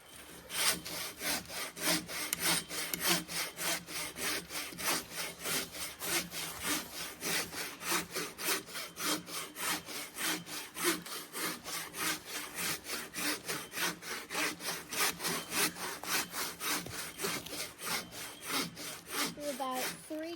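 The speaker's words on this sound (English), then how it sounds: "I'm just about running out of depth on my saw here" A hand saw rasps back and forth through a thick piece of wood at a campsite, the strokes steady and rhythmic and fairly close, continuing without pause for about twenty seconds with no talking.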